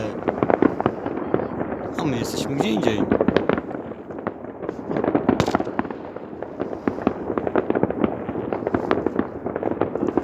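Distant New Year's fireworks over Silesian cities pop and crackle in irregular bursts throughout, mixed with a person talking over them.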